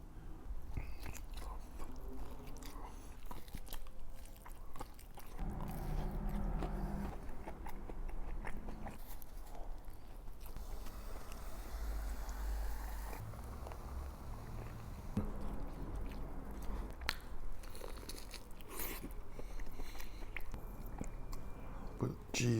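Mozzarella cheese sticks from a barbecue spread with ribs and pulled pork being bitten and chewed close to the mic. Soft crunches and wet chewing run on and off throughout, with faint murmured talk in the background.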